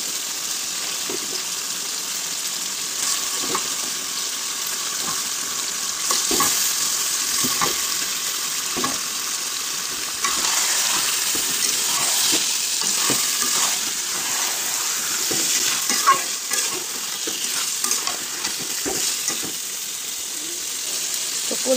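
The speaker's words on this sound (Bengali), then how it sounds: "শুধু এখন মশলার মধ্যে মাংসগুলো দিয়ে দিব।" Broiler chicken meat, liver and feet frying in a spice masala in a kadai: a steady close sizzle with wet bubbling and occasional stirring scrapes and clinks, continuous and fairly loud with no talk.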